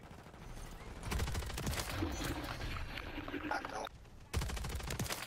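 Rapid SMG fire in Call of Duty: Modern Warfare 3, a near, dense stream of shots running through most of the stretch with a brief break near the end, mixed with game noise.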